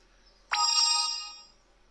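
A mobile phone rings indoors during a live stream: a single bright electronic chime that starts sharply and fades out over about a second, with no talking.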